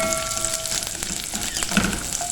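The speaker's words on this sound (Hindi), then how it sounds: "ये सब कुछ डालेंगे इसमें और इसको 5 मिनट तक फ्राई करेंगे" Ingredients for a custard vermicelli dessert, including dry fruits being roasted, sizzle and fry steadily in a pan, a close, continuous crackling hiss with light stirring and no talk.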